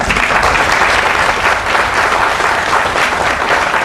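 A seated audience at a NASSCOM IT Niketan session gives sustained, even applause, a dense wash of many hands clapping close and loud with no break.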